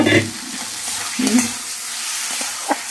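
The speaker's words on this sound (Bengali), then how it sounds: "এবার আমি পরিমাণ মতো জল দেব" Potatoes and spices being cooked for a Katla fish curry sizzle loudly as they are stirred in the pan, with scraping strokes and a sudden hissing burst as water goes in.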